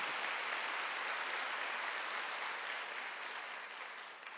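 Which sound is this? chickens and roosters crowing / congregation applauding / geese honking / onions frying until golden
congregation applauding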